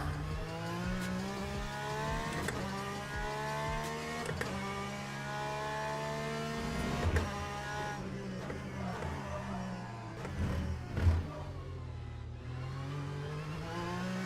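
A Porsche race car engine in the Le Mans Ultimate sim racing game drones loudly and steadily, its pitch climbing and dropping through gear changes and throttle lifts, with a few sharp knocks and bursts near the end.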